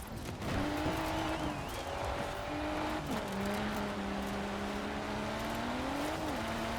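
Car engine revving and shifting in the racing video game Forza Horizon 4, a steady loud engine drone with pitch drops as it brakes hard, brief tire squeal, no talk.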